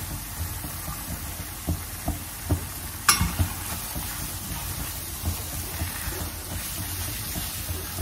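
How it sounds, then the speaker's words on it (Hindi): Sugar stirred into sizzling atta halwa in a pan, with a steady close-up frying hiss and periodic soft knocks and scrapes from the spoon, one sharper clink midway, no talking. "इसे अच्छे से मिक्स करेंगे"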